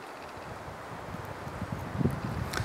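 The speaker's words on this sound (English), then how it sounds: "It's pretty windy." Wind gusting across a lakeside campsite on a canoe portage trip, a steady rushing noise with leaves rustling and a few light knocks near the end, no voices.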